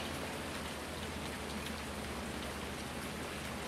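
Rain in the video game Farming Simulator 19, a dense, steady hiss of falling drops that stays constant throughout with no voices over it.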